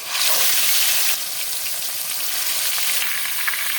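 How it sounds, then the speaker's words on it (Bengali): Marinated chicken dropped into hot mustard oil in a heated wok, giving a loud, steady broadband sizzle that surges at first and then settles into continuous frying with small crackles. "তেলটা গরম হয়ে গেছে দিয়ে দেবো মেখে রাখা চিকেন"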